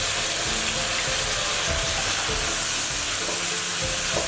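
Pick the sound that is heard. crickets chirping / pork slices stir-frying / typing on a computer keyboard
pork slices stir-frying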